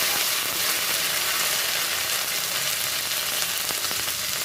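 Cumin seeds spit and sizzle in hot oil while tempering for a fish-head and cabbage curry, a continuous, close, crackling fry with no pauses or voices.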